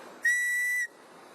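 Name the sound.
loud emergency whistle blown for search and rescue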